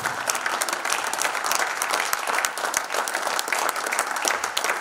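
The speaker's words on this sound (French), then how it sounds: "Acclamons très fort, bien évidemment, le Seigneur" A congregation at a gathering of Congolese servants of God claps loudly and continuously for the Lord, dense crowd applause filling the hall with no break.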